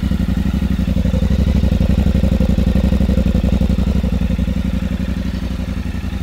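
A 2024 Yamaha Ténéré 700 motorcycle engine runs steadily nearby, a loud, even idle with a fast regular pulsing throb and light mechanical clatter, alone without any talk.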